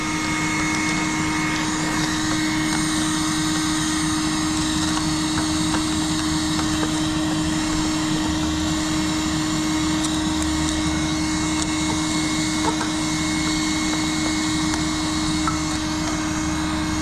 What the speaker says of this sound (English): I think my vacuum needs a new filter.